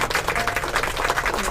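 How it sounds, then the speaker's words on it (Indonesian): An audience at the back of a talk show hall breaks into a steady round of applause, dense overlapping claps filling the short stretch at an even, moderately loud level. "Tepuk tangan yang di belakang."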